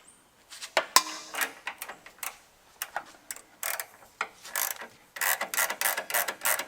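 Wrench work on a 5th gen Toyota 4Runner, loosening the upper shock and sway bar bolts during a Bilstein 6112/5100 install: a run of quick ratcheting clicks and metallic ticks in short bursts, close and fairly clear, with no talking.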